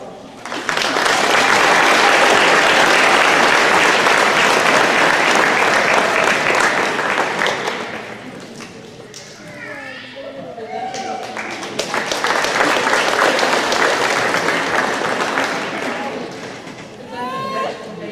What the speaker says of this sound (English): Give these students another round of applause.